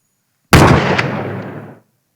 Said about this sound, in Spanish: Si juntamos todos estos sonidos, que es lo que hice para crear el impacto que necesitamos, el disparo suena así.